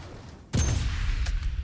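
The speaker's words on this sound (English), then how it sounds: "Oh, the sniper's shooting at us." A sniper rifle shot cracks in Sniper Elite 5, one sharp, heavy report with a rumbling tail, then a fainter second crack about a second later.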